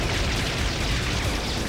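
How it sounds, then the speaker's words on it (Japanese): Explosion in the Super Robot Taisen video game, a dense, continuous roar of blasting noise that fills the whole stretch at steady loudness with no clear individual bursts. "爆発する。"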